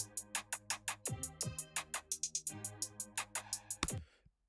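Pre-made drums and keyboard play back in a BandLab music project, a steady beat of hats or snares with sustained keyboard chords and bass notes, clean and upfront, stopping abruptly near the end.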